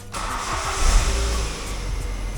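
A Ford Ka engine starts and settles into a cold idle, a steady close mid-pitched hum after a brief rev, with no voices.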